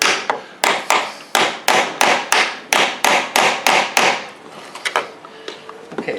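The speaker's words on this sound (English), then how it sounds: "you can take the chisel and set it down" A chisel is set against a wooden door and struck repeatedly with a hammer, giving about a dozen sharp, evenly spaced knocks, loud and close, that thin out into lighter taps near the end.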